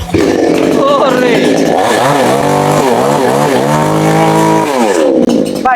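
A Hyundai 110cc chainsaw roars loud and close after a pull-start, its engine revving up and down in a harsh, buzzing whine that runs steadily before cutting off near the end.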